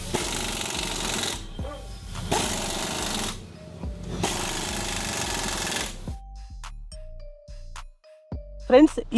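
Pneumatic impact wrench tightening chrome wheel bolts onto new 15-inch alloy wheels at a tyre shop, loud rattling bursts with short pauses, then sparser clanks and clicks near the end.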